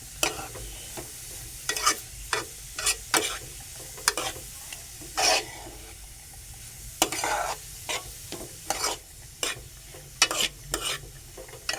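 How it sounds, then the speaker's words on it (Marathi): Grated carrot for halwa is sautéed in ghee in a pan. A soft sizzle runs throughout, broken by a series of irregular, close scraping stirs of a spoon against the pan. "तुपात परतून घ्यायचं आहे"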